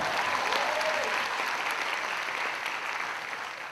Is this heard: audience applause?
yes